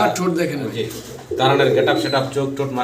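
Fancy pigeons, including a black checker, coo in low throaty burbles close by, repeating under and between someone speaking Bengali.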